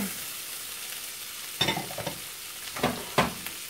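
Onion with green and red peppers fries in melted butter, a steady low sizzle broken by several close, scraping stirs of a utensil against the pan in the second half.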